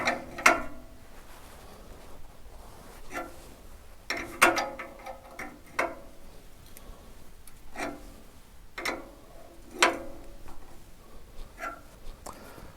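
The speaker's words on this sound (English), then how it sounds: "Now 22mm, give it a nip up." A 22mm spanner tightens a crush-washered lambda sensor into the exhaust of a Lotus Evora, giving faint, irregular metallic ticks and clicks spaced a second or so apart, close by with no talking.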